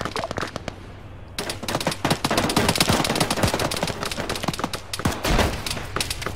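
Heavy gunfire in a military raid on a power plant in a video game: dense, rapid bursts of automatic fire with sharp individual shots, loud and close, running nearly continuously with brief gaps.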